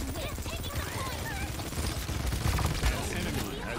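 Gunfire in the video game Paladins, a dense stream of rapid repeated shots over busy game music and effects, with a voice speaking over it.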